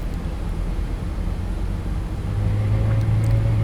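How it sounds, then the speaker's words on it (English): Boeing 777 engines spooling up in the Flight Factor 777 for X-Plane, a flight simulator game, a loud steady low jet rumble with a rising whine-like tone emerging in the second half, no talking. "you'll hear the wonderful sounds of these engines in the 777"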